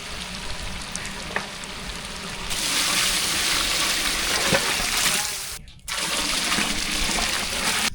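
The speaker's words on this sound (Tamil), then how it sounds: "தேவையான அளவு வெந்நீர் சேர்த்தாச்சும் நல்லா கொதிக்கிட்டு மூடி வச்சிடலாம்" Hot water poured into a pan of vegetable pulao, a steady rushing and sizzling wash of liquid that grows louder midway, briefly cuts out, then resumes.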